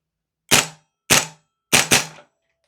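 A Vorsk VMP-2 gas blowback airsoft rifle fires four sharp, snappy shots, three spaced singles and then a quick pair, loud and close with no talking.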